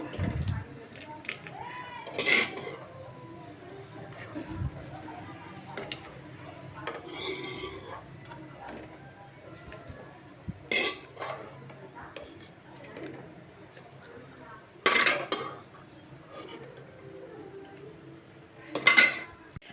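Roasted dry fruits scooped from a kadhai with a metal spoon, heard as several sharp clinks and scrapes spaced apart, with a person talking in between.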